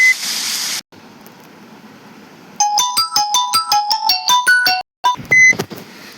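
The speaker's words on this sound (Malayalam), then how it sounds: "ഓക്കെ ഗൈസ്, വീണ്ടും ഒരു ഫോൺ കോളാണ്." An incoming-call ringtone plays a bright repeating melodic pattern of short electronic notes, loud and close, starting after a quiet stretch, pausing briefly and resuming near the end, with no voices.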